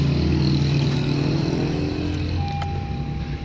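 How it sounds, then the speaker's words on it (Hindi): A Honda car's engine runs steadily once the security light goes off, a low continuous hum that carries through the whole stretch with no voices. "अब हमारी गाड़ी भी स्टार्ट होगी"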